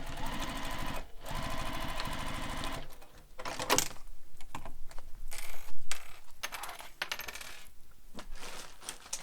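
A sewing machine stitches Manhattan Bag pieces in several close runs with short stops, joined by clicks and light metallic rattles, with no speech.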